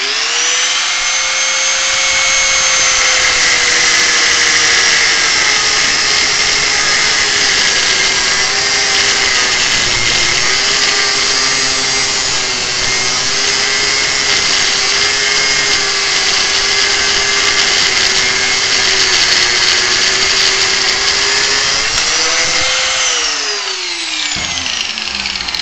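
A power tool cuts steel angle iron for a homemade sheet-metal bender, running loud and steady for about 23 seconds with a sustained whine that shifts slightly in pitch, then winds down at the end.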